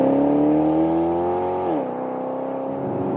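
A Maserati GranTurismo MC Sportline engine revs in sport mode with a loud, close, droning note that climbs slightly, then drops sharply as the revs fall and settles into a lower steady hum.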